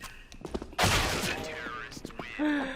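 Gunfire in CS:GO, a sudden loud burst of shots followed by scattered game noises and effects, with a voice talking excitedly over it.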